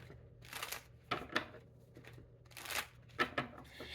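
Repeated bursts of tarot cards being shuffled, riffled in quick rustling sweeps with short pauses between, close and fairly quiet.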